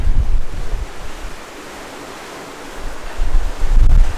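Ocean waves and gusting wind surround a sailing catamaran in roughly 2.5-meter seas on a passage from the Bahamas toward Charleston, South Carolina. Steady, loud wash and wind rumble swell at the start, ease, then build again near the end.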